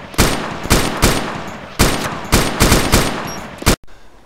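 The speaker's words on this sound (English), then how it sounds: "When they slow down, just shoot." Video-game gunfire in DayZ Origins aimed at mutants: eight or so loud, close shots fire in an uneven rhythm, each with a decaying tail, before a sudden cutoff.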